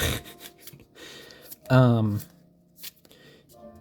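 Tarot cards, larger than standard playing cards, are shuffled by hand in quick papery riffles and slides, close up, while a person keeps talking over them.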